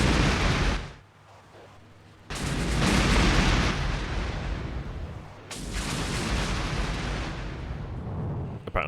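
Aircraft rocket strikes in the Armored Brigade war game land as loud, heavy explosive blasts, one big burst followed by a short lull, then two more long rumbling detonations that fade out slowly.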